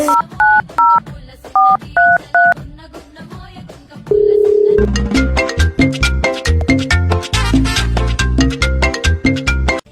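A phone number is dialled on a telephone keypad, a short run of separate tone beeps in quick groups, followed by a louder steady ringback and then music.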